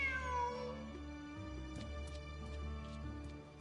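A cat meows once in a drawn-out, falling cry in the Genshin Impact video game, over steady game music with soft chimes, fairly quiet.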